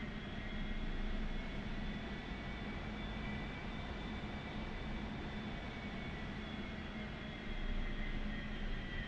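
A-4 Skyhawk jet engine in the DCS flight simulator, a constant steady whine and roar with a low droning hum and faint tonal lines, holding at even volume throughout with a slight swell near the end and no talk.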